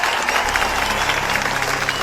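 An audience claps together in a short, dense burst of crowd applause, loud and sustained without a break.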